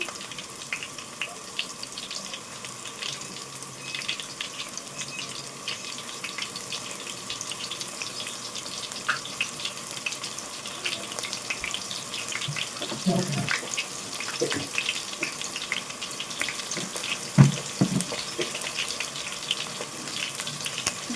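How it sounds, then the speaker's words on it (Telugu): Soya chunks (meal maker) frying in hot oil for manchurian, a steady, even sizzle with faint crackles running throughout, close and moderately loud with no voice over it. "ఇలానే అన్నీ ఫ్రై చేసుకోవాలండి ఇవైతే బాగా ఫ్రై అవ్వాలి"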